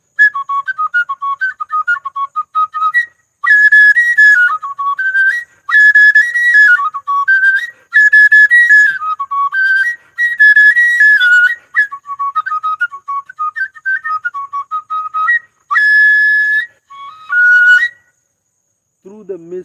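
An oja flute plays a loud, piercing, breathy melody in short repeated phrases with brief gaps between them, close and alone until a low voice briefly enters at the very end.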